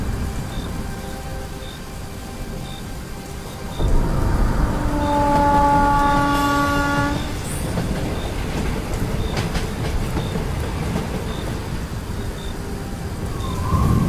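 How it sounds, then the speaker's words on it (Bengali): A train rolls past loudly from about four seconds on, with a rumbling roar, rhythmic rail clatter and a brief horn-like tone. Before that, a steady low hum fills the background in a horror cartoon setting. "9টা 8-এর ট্রেনে উঠে পড়লাম।"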